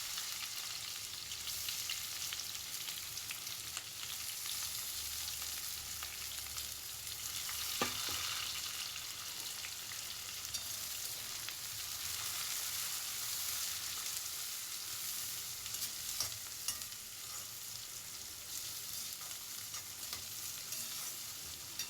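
Chopped onions frying in hot oil just after mustard seeds have popped, a steady, fairly quiet sizzle with faint stirring and one brief clack, continuous and without talk.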